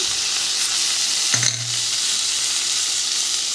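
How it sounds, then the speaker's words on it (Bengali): Ginger-garlic paste and ground spices frying with onion and potato in a pan, a steady close sizzle with one brief clatter of the pan partway through, no voices. "তিন চার মিনিট মতন ভালো করে ভেজে নেব দিয়ে দেব আদা রসুন বাটা গুঁড়ো মশলা"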